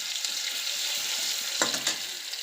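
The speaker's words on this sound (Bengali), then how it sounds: "তো তেলটা গরম হয়ে গেছে, তো সবার প্রথমে আমি এখানে রসুনটা দিয়ে দিচ্ছি" Garlic sizzling in hot oil in a pan, a steady close hiss throughout with a couple of brief louder crackles as it is stirred.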